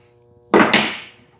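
A single hammer blow on 24 gauge steel sheet clamped over a clamp used as an anvil, a sharp loud metallic strike with a quick second bounce and a short ringing decay, no voices.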